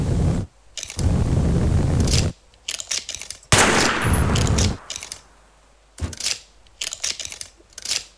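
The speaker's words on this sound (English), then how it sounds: "I honestly don't understand how you use a flipping weld gun." A weld gun in the game Teardown fires in loud, harsh sustained bursts of crackling noise, several long blasts separated by short quiet gaps and choppier stretches.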